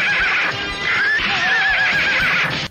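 Horses in a Bollywood film scene from Karan Arjun let out loud, shrill whinnies in quick succession, with a busy background of hooves and movement and no speech.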